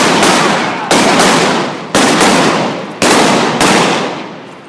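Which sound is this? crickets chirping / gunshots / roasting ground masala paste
gunshots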